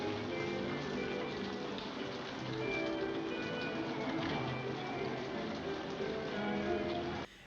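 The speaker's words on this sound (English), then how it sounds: "As the heat wave breaks and the rain falls" Steady rain pours down on a New York night in the film Rear Window, a dense, continuous hiss that holds evenly and then cuts off abruptly at the end.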